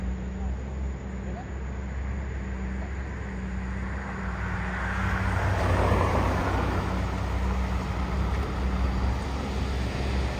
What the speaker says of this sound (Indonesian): Trailer lagi menanjak.